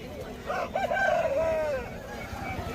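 An Aseel rooster crows once at an outdoor poultry market, a single drawn-out cock-a-doodle-doo lasting about a second over a murmuring crowd background.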